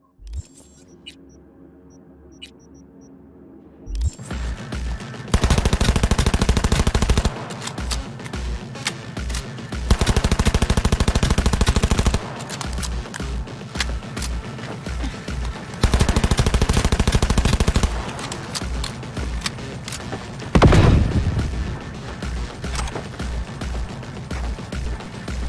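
Submachine gun fire in the video game Cyberpunk 2077 comes in loud, rapid bursts that repeat throughout, separated by brief lulls with a low droning background.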